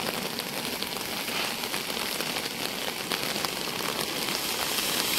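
Heavy village rain falls in an even, constant hiss of droplets, close and moderately loud with no voices.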